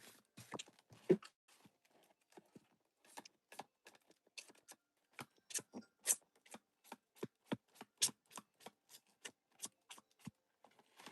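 A long run of crisp Pokémon card snaps and flicks, steady and close, with short pauses between them and no voices.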